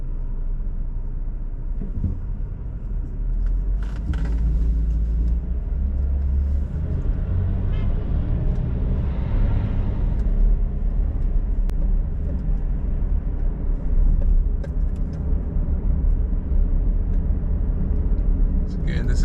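A car drives down Flatbush Avenue in Brooklyn on a Saturday morning, with a steady loud low interior rumble of engine and road noise and passing street traffic. A voice may talk over it.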